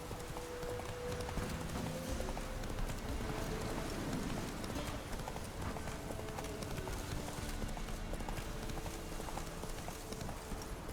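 Roach, Geralt's horse in The Witcher 3, gallops with rapid, steady hoofbeats under continuous rain, the clip-clop rhythm holding for about eleven seconds at a moderate, even level.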